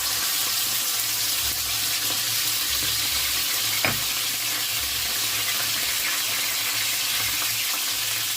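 Pork fat for pakbit fries in a pan with a steady, loud, close sizzle throughout, broken by a single sharp pop partway through.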